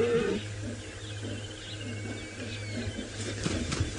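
A lioness gives soft, low calls to her cub during a sunrise safari drive, a series of muffled rumbling sounds heard at moderate distance over steady vehicle hum.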